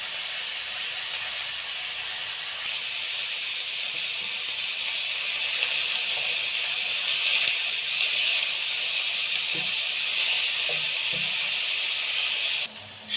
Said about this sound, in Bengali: শসা হালকা করে ভেজে নেওয়া হয়ে গেছে।